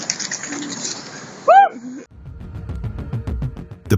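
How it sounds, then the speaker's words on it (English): Pigeons scuffle in a sudden fight, with one clear loud coo rising out of the commotion, followed by a burst of close flapping and scratching noises. "The pigeon fight was not even over when a crow suddenly swooped down to join in"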